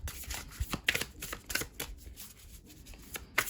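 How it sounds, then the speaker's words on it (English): A tarot card deck being shuffled by hand, soft rapid riffles and flicks with sharper card snaps, quiet and close, with no talk over it. "Let me shuffle a little bit"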